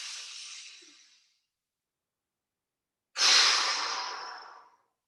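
Two breathy exhales during qigong breathwork, near and soft: one fading out at the start, then a stronger airy breath after a pause of silence.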